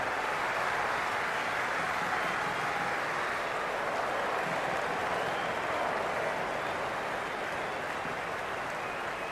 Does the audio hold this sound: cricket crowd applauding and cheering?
yes